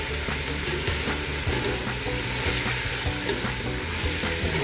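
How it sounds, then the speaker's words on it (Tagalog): Onions fry with ginger and garlic in a pan for salmon sinigang, a loud, dense, continuous sizzle close by with rhythmic stirring clatter running throughout and no voices. "So ayan na, medyo nag-brown na, saka natin ilalagay yung sibuyas."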